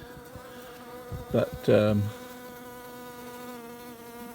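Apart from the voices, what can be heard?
honeybees circling in front of an observation hive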